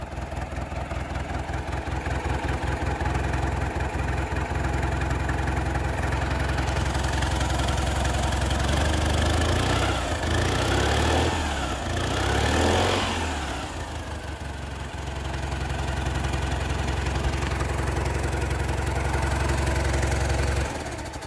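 A 1967 Citroen 2CV AZAM Export idles with its choke on, running slightly fast. The small engine gives a close, continuous, even putter that swells briefly midway before settling back, with no talking.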